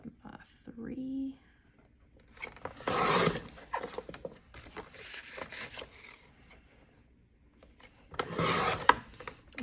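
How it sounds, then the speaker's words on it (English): Card paper for a Christmas card is cut by hand, giving several scraping, rasping strokes in separate bursts close by, with quiet gaps between them. "I'm gonna cut these to 5 by 3."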